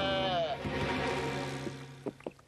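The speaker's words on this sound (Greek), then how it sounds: "Το πρόβατο λέει μπε" Cartoon sheep bleats in a Lucky Luke animated Western episode, a wavering voiced bleat up front followed by shorter bleating calls, heard over music and background sound.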